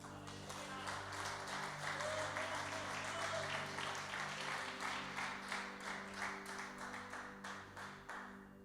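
Applause from a church congregation praising the Lord during a pastor's service, a steady patter of hands with a sustained organ or keyboard chord beneath and faint voices mixed in.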